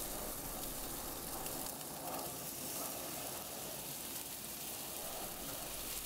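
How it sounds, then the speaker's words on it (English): Three bacon strips sizzling on a Weber Q griddle, a steady broadband hiss and crackle that stays even and continuous throughout, with no talking. "3 strips of bacon, sizzling nicely already"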